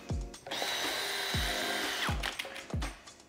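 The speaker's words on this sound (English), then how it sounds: "You have a 35-foot cable, you have a drill, you have a drill chuck adapter." A power drill spins a speed-cut cable through a drill chuck adapter for pipe descaling, whirring steadily for a few seconds between sharp knocks and clunks, close and loud.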